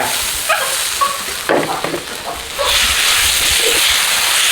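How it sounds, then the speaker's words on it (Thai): Glass noodles stir-fried in a pan with cabbage and carrot, giving a steady close sizzle with scraping stirs and a few brief clatters throughout. "อันนี้เราก็จะนวดกะหล่ำปี แครอทไปพร้อมๆกับ วุ้นเส้นใส่ไป"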